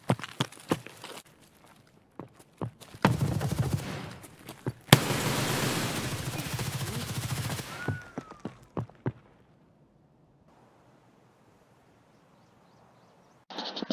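Rapid bursts of gunfire in the military shooter game Squad, loud sharp cracks in quick clusters over about eight seconds, then trailing off to near silence with a few isolated shots.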